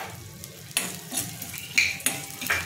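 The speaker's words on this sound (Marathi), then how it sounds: "डिंक किती मस्त फुलला जाते, ते छान त्याला अलटी पलटी करून मी ते तळून घेते।" Edible gum fries in hot oil in a wok. A steady close sizzle runs throughout, with a few sharp metallic scrapes and clinks as the pieces are turned over.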